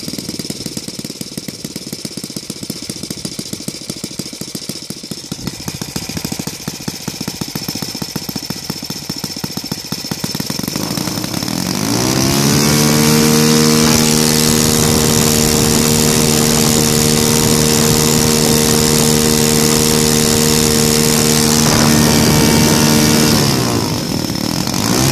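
Saito FA 115 model aircraft engine converted to ignition and running on gasoline, droning steadily, then rising sharply midway to a louder, higher-pitched sustained roar before dropping slightly at the end; close and loud with no talk.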